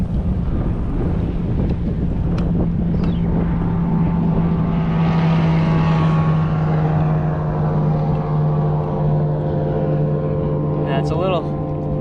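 A fast boat passes out on a lake, its engine droning steadily with a rising and falling pitch, heard over strong wind rumble on the microphone.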